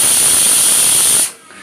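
A pressure cooker lets off a loud, steady hiss of escaping steam with a high whistling tone, cut off abruptly after about a second, leaving faint room noise.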